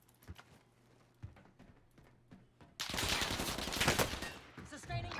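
Gunfire in a Call of Duty match, fought around rooftops. Scattered distant shots and clicks give way to a loud, dense stretch of sustained automatic fire that keeps going to the end.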